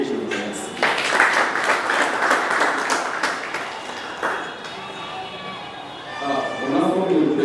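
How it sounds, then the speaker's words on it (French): An audience applauds a professor at a meeting in Équateur province, a broad wash of clapping that holds steady throughout, with some speech mixed in underneath. "On a comme l'impression qu'on entend très bien applaudir le professeur."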